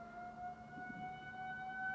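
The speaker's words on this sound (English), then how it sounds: "Got some sirens in the back." Sirens wail in the background of a city or suburban neighborhood, a steady, fairly faint rising and falling tone heard at a distance with no talking.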